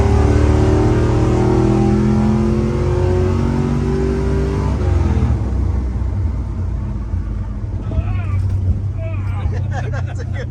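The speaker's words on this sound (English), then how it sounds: "Oh, truck runs pretty good. This truck does run good." A 1974 Chevy crew cab truck driving, with a loud, steady low engine drone inside the cab that eases off partway through, and people talking over it.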